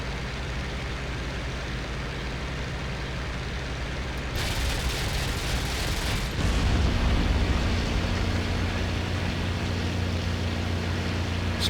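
A Yak-9 fighter strafing ground targets in IL-2 Great Battles, with a steady engine roar in the cockpit that becomes denser with cannon and machine-gun fire partway through, loud and continuous.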